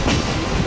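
A Great Smoky Mountains Railroad train rumbles loudly and close, with a dense, continuous roar of rolling wheels and rail noise.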